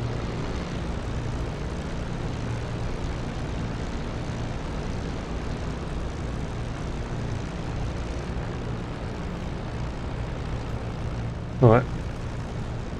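Propeller-driven fighter aircraft taxiing toward runway 35 in the DCS World flight simulator, a steady droning engine hum held throughout, with a brief louder burst near the end.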